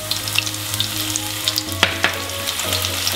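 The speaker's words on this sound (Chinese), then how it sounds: "要把蒜炒至金黄色。" Garlic frying in a pan until golden makes a loud, steady, crackling sizzle with a couple of sharper pops and stirring scrapes near the middle.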